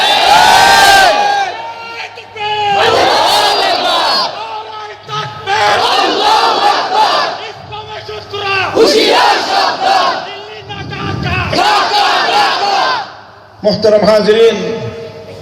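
A large crowd chants slogans in loud, rhythmic bursts of shouting, repeated in waves with short gaps between them.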